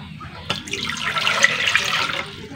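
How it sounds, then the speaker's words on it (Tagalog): Water pours into a pot for making leche flan jelly, a close, bubbling splash that swells after a short knock and runs for about two seconds. "ilagay natin tong tubig."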